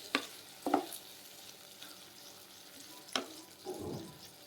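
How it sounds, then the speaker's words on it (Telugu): Soya chunks (meal maker) fried in a pan get stirred with ground masala, giving a low steady sizzle with a few sharp scrapes and spoon knocks against the pan at intervals, close by, with no talking. "ఇలా యాడ్ చేసి బాగా మిక్స్ చేసుకోవాలి"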